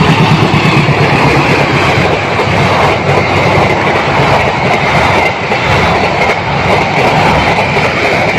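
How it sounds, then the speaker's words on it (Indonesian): The KA Argo Wilis passenger train, hauled by a CC 206 diesel locomotive, passes close by at speed, producing a loud, sustained rumble with rapid clickety-clack of wheels over rail joints throughout. "di sini sudah muncul KA Argo Wilis dengan lokomotif CC 206."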